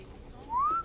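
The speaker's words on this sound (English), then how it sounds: "I just whistled, so it gets his attention." A single short rising whistle from a player character in the Splinter Cell stealth game, used to draw a guard's attention; clear and alone over a quiet background.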